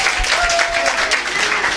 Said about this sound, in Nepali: हुन्छ भाइलाई हामी फेरि पनि ताली मार्नेछौँ